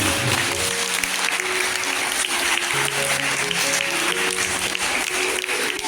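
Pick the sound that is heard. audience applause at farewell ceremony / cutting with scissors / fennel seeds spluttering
audience applause at farewell ceremony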